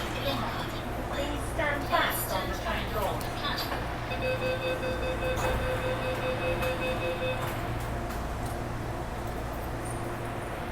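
An MTR Tung Chung line train departs a Hong Kong station, its low rumble steady throughout. A sustained tonal whine rises in the middle, and voices murmur faintly nearby.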